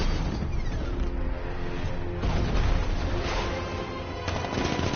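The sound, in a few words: Batmobile 60mm cannon firing in Batman Arkham Knight video game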